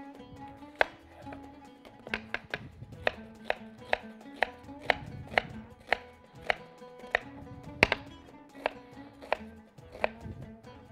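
A knife chops an onion on a cutting board in a kitchen, with crisp, fairly regular taps repeating over several seconds at moderate volume and a faint background hum beneath.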